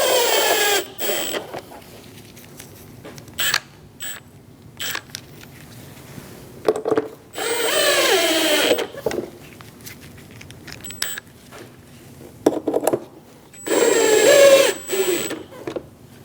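A power tool drives screws into the window regulator rails of a Dodge Durango, with several short whirring bursts separated by pauses and some clicks and handling noise, close up with no talking.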